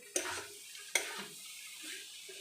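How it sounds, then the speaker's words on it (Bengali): A spoon scrapes and stirs taro curry with tomatoes in a wok, making two sharp knocks followed by soft scraping and a faint simmer, quiet and close with no talking. "এইভাবে নাড়াচাড়া করবো যাতে না লেগে যায়"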